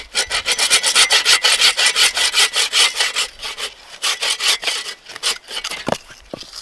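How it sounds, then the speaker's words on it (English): A hand saw cuts through a thick wooden stick outdoors in deep winter snow, giving loud, steady rasping back-and-forth strokes in a quick regular rhythm that slows and breaks up near the end. "You gotta get the saw out anyway, right?"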